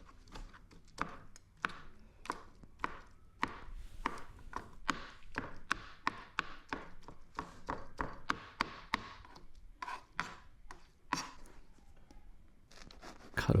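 A knife chops cooked chicken into bite-sized pieces on a board, a steady run of quiet, close, irregular taps and thuds with no talking.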